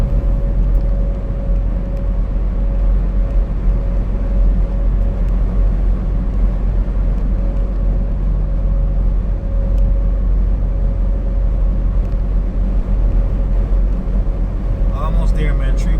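Inside a semi truck cab on the road, the engine and tires give a loud, continuous low rumble with a steady tonal hum, while someone talks over the drone.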